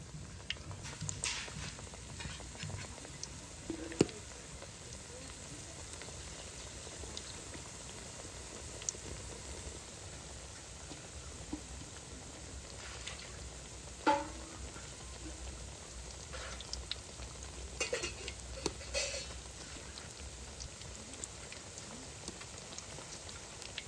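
Vasoti flower bhajiya fritters fry in oil with a soft, steady bubbling patter, fairly quiet, with scattered louder pops and no talking.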